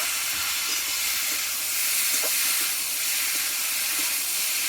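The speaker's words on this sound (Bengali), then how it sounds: "এবার সব উপকরণগুলো একসঙ্গে দিয়ে ভালোভাবে কিছুক্ষণ আমি আরও কষিয়ে নেব" Vegetarian curry ingredients with ground spice paste are sautéed together in a pan in little oil, giving a constant loud hissing sizzle with a few faint stirring knocks.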